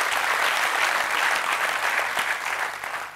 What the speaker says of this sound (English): All of you, deserve a big round of applause